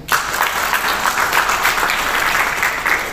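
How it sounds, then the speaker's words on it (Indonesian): An audience at an inauguration ceremony for LTN PWNU DKI bursts into applause, a sudden onset of loud, dense clapping that holds steady and close until the end. "Tepuk tangan."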